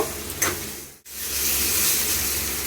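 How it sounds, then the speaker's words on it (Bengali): Fried potatoes with salt, turmeric and spices sautéing in a hot pan, giving a steady close hiss and sizzle after a brief stir and a short break. "এবার ভেজে রাখা আলুগুলো দিয়ে দিচ্ছি আর একটু মশলাটা কষিয়ে নেব"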